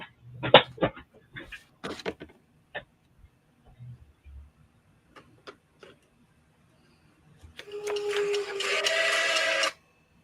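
An alarm goes off near the end, a loud, dense buzzing ring lasting about two seconds, after scattered faint clicks and taps in an otherwise quiet room.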